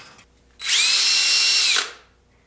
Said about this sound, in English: now I'm just going to drill out the wheel and get the wheels mounted.